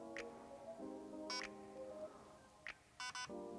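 Short electronic confirmation beeps from an SSR4 Mk2 airsoft replica being programmed, a lone beep followed by a quick pair, faint and close over a low steady hum.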